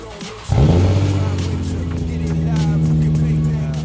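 A stock 2003 Nissan 350Z engine catches and settles into a loud, close, steady droning idle or low-speed run with a firm low hum and no voices.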